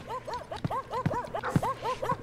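A dog in the game Garry's Mod barking in a quick, evenly spaced series of sharp yips, close and fairly loud, mixed with a few thumps and a little talking.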